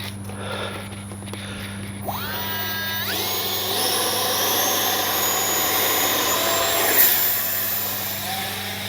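The electric ducted-fan motor of an Arrows 50mm Viper RC jet spools up in two rising whines, then holds a loud, steady high-pitched whir close by.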